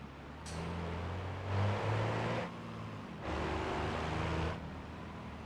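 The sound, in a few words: MD70 dump truck engine driving in video game BeamNG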